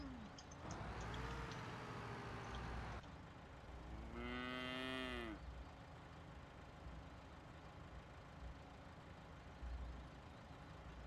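Cattle in a farming simulation game give two long, loud, drawn-out moos, one after the other, over a steady engine idle hum in the background.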